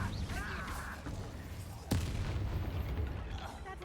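A fire spell cast as Incendio in Hogwarts Legacy bursts with a single sharp blast midway, then a rumbling roar that lingers over a dense background of game ambience, with a voice briefly audible.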